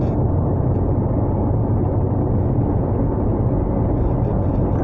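A Mitsubishi Outlander PHEV accelerates hard at full throttle in pure electric mode, filling the cabin with a steady, loud, dense rumble of road and wind noise that builds without a break and carries no talk.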